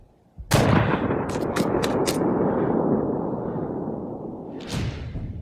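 A single loud sniper rifle shot in the video game Sniper: Ghost Warrior, a sharp close blast followed by a long rolling echo that fades slowly, with a second fainter report near the end.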